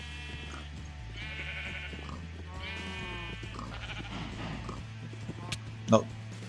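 Sheep bleat repeatedly in Minecraft, several nasal calls in the first half over a low droning hum, followed by a short sharp thump near the end.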